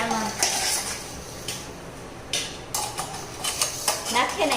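A crumbled jaggery ladoo mixture stirred and turned in a pan, with repeated metal scrapes and clinks of a spoon against the pan, close-up and fairly steady, with faint background voices.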